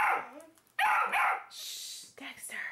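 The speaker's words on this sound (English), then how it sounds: "Somebody let him down so he'll stop barking." A pet dog barks indoors on the morning of a child's birthday party, short barks mixed in with several children's and adults' voices talking nearby.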